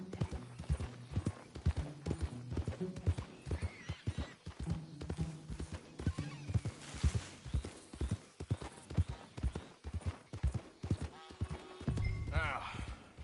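Rhythmic clip-clop of horse hooves from a video game, steady trotting that carries throughout, with a brief whinny and a voice talking over it.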